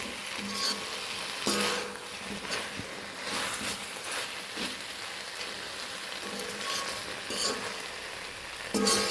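Liver roast with curry leaves being stirred in a hot pan, a close, steady sizzle broken by scraping and clinking of the spoon at irregular moments, with no voices.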